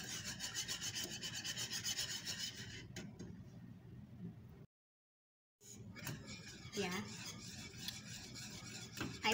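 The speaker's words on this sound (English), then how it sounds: "Stirring. Yeah, I'm stirring again." A spoon scrapes and rubs steadily around a pan of gravy made with Indomie and oyster sauce. The sound is close and raspy, stops in a brief silence, then resumes, with someone talking at times.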